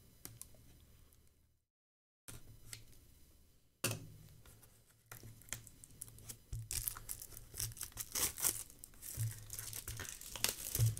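Crinkly foil wrapper of a Magic: The Gathering card pack being torn open up close, with rustling and ripping bursts that grow denser and louder toward the end after a brief silent gap.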